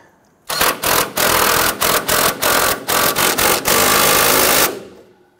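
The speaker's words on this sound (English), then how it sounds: "I'm going to go ahead and snug down that bolt for the end link." A pneumatic impact wrench snugs the sway bar end link bolt on a Nissan Frontier front suspension, loud close bursts of rapid hammering broken by short pauses, then one long run.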